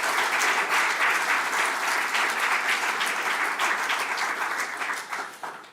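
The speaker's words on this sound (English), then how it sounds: "Big round of applause for all of them" A conference audience applauds tourism panel members at the Bled Strategic Forum. The clapping is full, continuous and steady throughout, tapering slightly at the very end.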